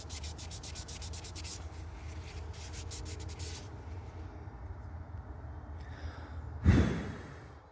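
Rubbing and scrubbing on an RC tire rim to clean off molding residue, a quiet, close, rapid rhythmic scraping that fades out, followed by a single louder brushing stroke near the end.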